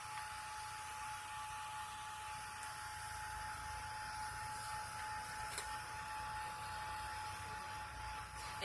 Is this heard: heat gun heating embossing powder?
yes